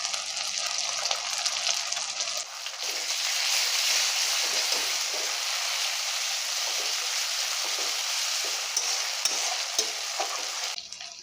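Ginger and garlic paste fries in a pan with a loud, steady sizzle and crackle, stirred continuously for several seconds, close up and with no talking.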